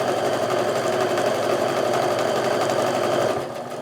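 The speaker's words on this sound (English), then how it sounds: "So I'm just sewing my scant 1/4 inch seam down both sides here" A sewing machine hums at a steady, fast pace while stitching a scant quarter-inch quilt seam, close and loud, easing off just at the end.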